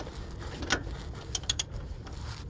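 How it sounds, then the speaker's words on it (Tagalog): A ratchet with a 24mm socket tightens a car's differential drain plug, giving a few quick, sharp metallic clicks close by, spread over a couple of seconds against low background noise. "pwede na natin higpitan gamit tong 24mm"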